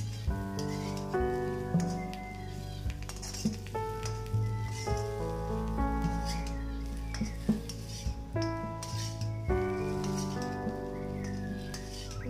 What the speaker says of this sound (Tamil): நம்ம பொரித்து வச்ச அந்த மீன் துண்டுகளை இதில் போட்டு கொஞ்சம் தீயை மீடியமாக வச்சு நல்லா எல்லா மசாலாவும் இந்த மீன் துண்டுகளோடு சேர்கிற அளவுக்கு நம்ம கிளறி விட்டுக்கிட்டே இருக்கணும்